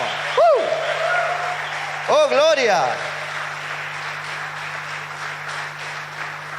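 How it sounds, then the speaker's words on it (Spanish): A church congregation applauds steadily as a steady wash of clapping, while a preacher's voice cries out loudly over it near the start and again a moment later. "Denle un aplauso al Señor"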